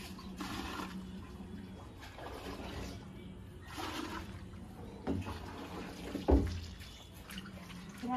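Water poured from a mug by hand in a home while the electric supply wire is burnt out, heard as repeated soft splashing pours in broken bursts, fairly faint, with no talk.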